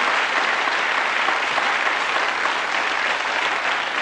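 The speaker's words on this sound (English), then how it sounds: "Give them a nice round of applause" A crowd claps continuously in dense, steady applause that neither builds nor fades across the whole stretch.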